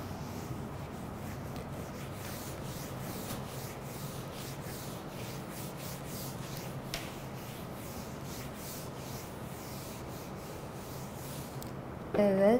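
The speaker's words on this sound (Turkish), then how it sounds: "Çünkü ben siliyorum." Writing is wiped off a classroom board in a long stretch of soft, steady rubbing strokes, close and moderately quiet, before a brief voice cuts in at the end.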